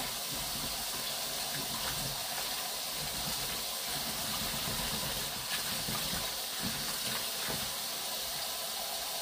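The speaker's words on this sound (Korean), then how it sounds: "쪽파는 살살 문질러서 잘 씻어줍니다." Green onions (jjokpa) are rubbed and washed in water, with a steady rushing hiss of running water and faint splashing and handling sounds, no talking.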